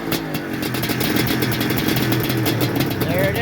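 A 1980s Honda Interceptor motorcycle, an old race bike, runs steadily up close, its engine droning with a continuous mid-range tone and faint rev fluctuations, while a person talks over it.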